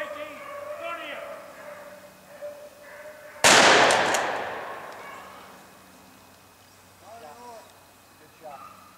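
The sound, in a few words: shotgun shots during a rabbit hunt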